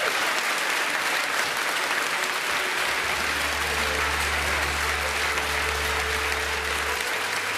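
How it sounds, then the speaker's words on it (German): Studio audience at a cooking show finale applauds loudly and steadily, dense continuous clapping filling the room from start to end, with a low hum entering partway through. "das ist dein Applaus"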